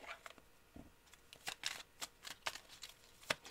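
Oracle cards are shuffled by hand in a quick run of soft, crisp riffles and taps, close and quiet, with no voice.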